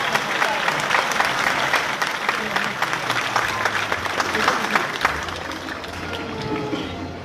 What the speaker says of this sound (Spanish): ¡Fuerte los aplausos al Señor de los milagros!